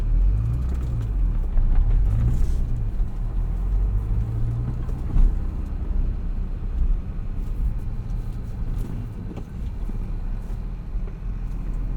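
A 1996 Acura NSX-T with a five-speed manual being driven, giving a steady low road and engine rumble that holds close and continuous for the whole stretch, with no talk over it.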